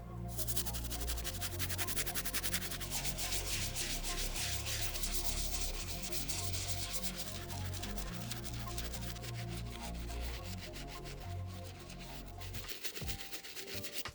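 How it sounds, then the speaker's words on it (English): A medium bristle brush scrubs the plastic wings and back tab of suede Air Jordan 4 sneakers, giving a steady, close rubbing scrub that runs continuously with no talk. "I am going to be using the medium bristle brush to take care of the plastic hardware on the shoes"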